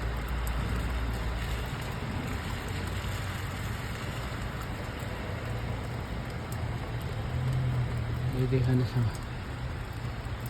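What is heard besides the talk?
heavy rain falling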